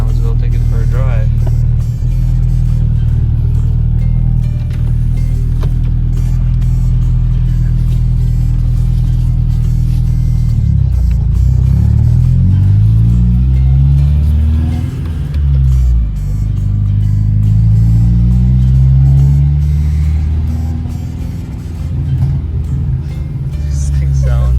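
A cheap Honda Civic project car with transmission damage, its engine droning loud and steady while driving, rising and falling through revs as it accelerates and eases off, with a rough, harsh tone throughout.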